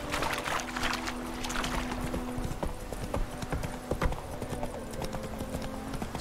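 Horse hooves clip-clop steadily at a walking pace in The Witcher 3, mid-loud with an even rhythm over a low ambient game backdrop.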